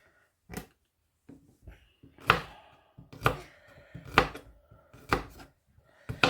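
A knife chops smoked garlic into small pieces on a board, about eight sharp, separate chops at an uneven pace with short pauses between them, close up and with no talking.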